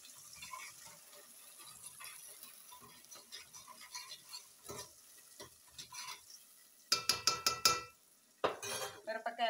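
Green chillies frying in a pan for a broad bean (chikkudukaya) curry, with quiet background sizzle and scattered utensil clinks, then a burst of sharp metallic scraping and stirring near the end.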